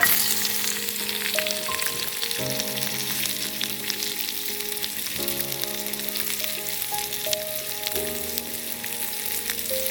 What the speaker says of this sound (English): I will stir fry this until and unless it becomes golden brown